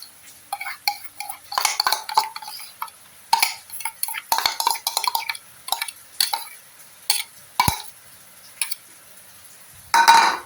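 Flour and sugar being stirred into mango batter for malpua, a ripe mango pancake, with a utensil scraping and clinking against the bowl in irregular bursts, close and fairly loud, with short pauses between strokes.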